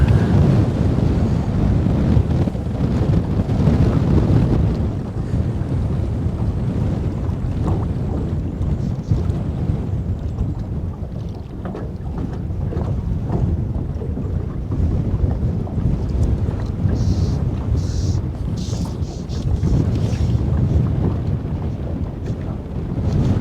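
Strong wind buffets the microphone outdoors on a boat while fishing, a loud, continuous low roar with gusting surges throughout and no talking.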